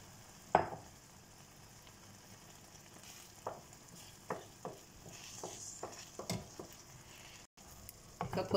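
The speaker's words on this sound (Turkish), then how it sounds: "Yumurta karışımımı patlıcanların üzerine gezdiriyorum." Egg mixture poured over eggplants in a hot pan gives a soft, steady sizzle close by, punctuated by a series of clinking utensil taps and scrapes against the pan at uneven intervals.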